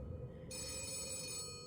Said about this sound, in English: Oh, wait, the phone's ringing.